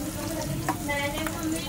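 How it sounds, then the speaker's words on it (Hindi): Onions fry in a pan for chhole, making a brief, close sizzle with a faint tonal hum running underneath. "कांदा अच्छा रेड होने तक का भून लेंगे"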